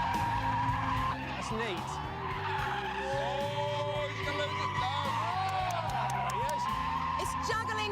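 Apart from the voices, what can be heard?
BMW 435i car skidding and drifting, tyres squealing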